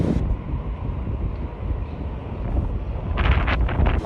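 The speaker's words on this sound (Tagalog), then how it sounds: "Mahangin ngayon, parang madusty." Steady blustery wind buffets the microphone with a low rumble throughout, gusting a bit harder near the end alongside some brief higher hissing.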